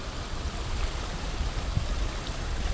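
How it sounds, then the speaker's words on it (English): Swollen stream after heavy atmospheric-river rain, water rushing and churning in a steady loud roar with no pauses and no voices. "That's a lot of water coming through."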